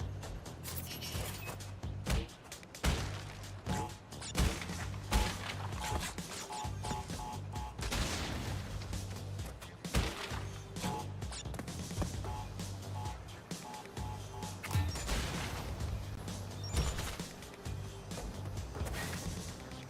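Fruit cannon blasting enemies in a video game, rapid booming shots and crashing impacts stacked in a loud, continuous barrage of gameplay chaos with no pauses.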